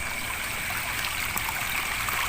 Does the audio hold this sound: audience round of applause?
no